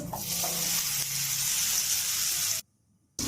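Panch phoron spices and carrots frying in hot oil give a loud, dense, continuous sizzle that cuts off abruptly near the end before briefly returning.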